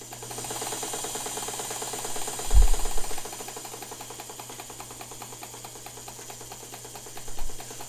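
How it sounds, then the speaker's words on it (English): An Imperial sewing machine stitches a satin stitch through heavy fabric at moderate speed, a steady rapid mechanical clatter with a constant hum and a couple of brief low thumps. "when I'm doing something like this, like a satin stitch, and I'm dealing with a heavier fabric, I prefer to go at a speed like this."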